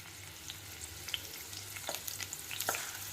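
Tomatoes and onions sauté in a pan over a medium gas flame, a steady low sizzle with soft scattered crackles and a few stirring scrapes, close and fairly quiet, no talking.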